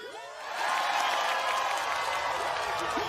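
Crowd cheering and applauding in a Disney cartoon, a fairly faint swell that fades in quickly and then holds as steady clapping with scattered whoops.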